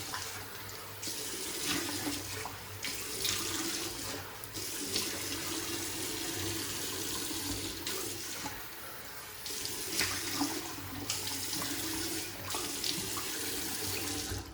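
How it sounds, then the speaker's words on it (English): Tap water runs steadily into a sink for a face wash after a wet shave with a Gillette Pure Impressions single-edge razor, a continuous close splashing hiss with small shifts in flow and no talking. "So let me wash my face and we'll get to the post shave."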